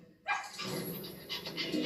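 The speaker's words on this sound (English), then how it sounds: "That's not my dog." A dog in a TV commercial barks abruptly, then keeps up a sustained, fairly loud bout of barking with no talking over it.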